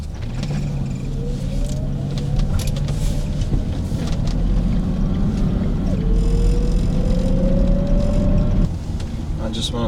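A BMW E32 750iL V12 engine, freshly repaired, runs steadily and loudly nearby, its pitch rising as it revs and then dropping away near the end.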